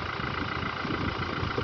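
A Toyota diesel engine, on a Fortuner, Hilux or Innova Reborn, idles during fuel system purging, producing a steady close rumble with even vibration throughout.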